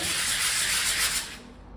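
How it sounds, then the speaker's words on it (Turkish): Steady abrasive sanding scrapes against an aluminium engine part of a 2013 Honda PCX 125, loud and continuous, then trails off quieter near the end. "O yüzden zımpara atmak zorundayız."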